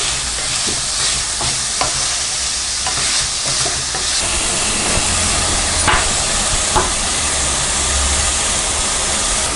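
Vegetables with green peas sauté in a pan for Shahi veg pulao, giving a loud, constant frying hiss broken by occasional spatula clicks and scrapes as they are stirred.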